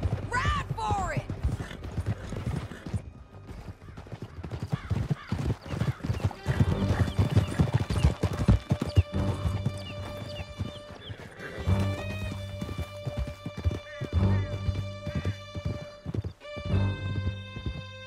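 Horses gallop in Red Dead Redemption 2, with steady hoofbeat clip-clop and whinnies up close, a shouted voice over the hooves and a music score rising underneath.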